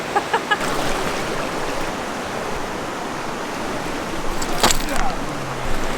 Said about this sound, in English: There's obviously a lot of water coming down because it's really loud and you can tell it's moving really fast.